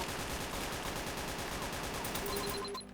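Rapid bursts of gunfire crackle continuously through a prison roleplay video game scene, dense and steady before cutting off abruptly near the end.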